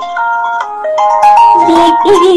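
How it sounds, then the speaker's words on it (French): A phone rings with an incoming call, a melodic electronic ringtone of stepped tones that grows busier and louder over a couple of seconds, with no talking. "Je crois qu'il y a un son chez toi là, ton téléphone est en train de recevoir des coups de fil"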